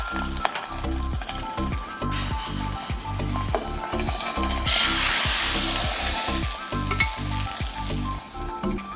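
Hot tempering oil with curry leaves sizzles and crackles loudly as it is poured into a raw mango sweet curry, a steady frying hiss with a sharp burst midway and repeated scraping clinks of a ladle.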